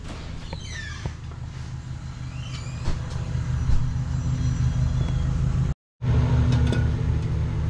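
A lowrider truck drives past outdoors, a steady, rumbling engine drone with faint squeaks and chirps layered over it, staying fairly loud before a brief cut near the end, with no talking.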